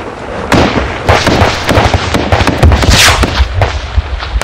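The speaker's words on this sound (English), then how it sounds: "their gunfire very close" Sharp, loud gunshots crack in a rapid irregular string, some overlapping in bursts, echoing outdoors during a Taliban attack on Royal Marines in Helmand, Afghanistan, with no speech.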